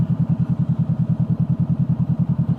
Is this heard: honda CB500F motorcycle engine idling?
yes